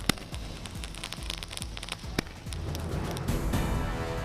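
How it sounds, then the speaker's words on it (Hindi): Firecrackers set off by people celebrating outdoors after Operation Sindoor in Barmer, sharp irregular bangs and pops repeating over a steady crackling background, fairly distant and dense toward the end. "लोगों ने फोड़े पटाखे।"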